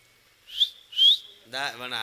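Two short rising whistles, loud and near, heard at a Tamil stage drama performance, followed by a voice.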